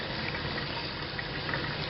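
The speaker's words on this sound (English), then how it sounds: "this is coming out of the faucet really fast and really hot." Hot water runs fast from a faucet fed by a Marey PP220 tankless water heater, a steady, close rushing hiss with no pauses or voices.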